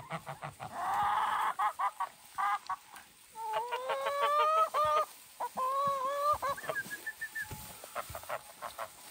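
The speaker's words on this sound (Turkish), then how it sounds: "İçeriye yumurtlamıyor ki tavuklar" Laying hens and other farmyard fowl cluck and call in a mountain setting, a run of short repeated notes and longer honking cries, fairly close and with no speech.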